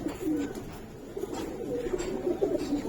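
Pakistani high flyer pigeons of the Giribaz silver coloring type coo softly and repeatedly at close range, with low throaty rolling calls throughout and light background noise.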